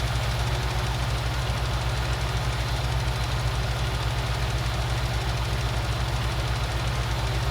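A John Deere tractor engine idles steadily in Farming Simulator 19, a loud, constant low rumble with fine knocking pulses that hold unchanged throughout with no talk over it.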